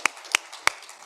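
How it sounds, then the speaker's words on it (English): A few separate, sharp hand claps at a conference closing ceremony, three quick isolated claps spaced evenly in just over a second, close and dry rather than a full crowd ovation. "so a quick round of applause there."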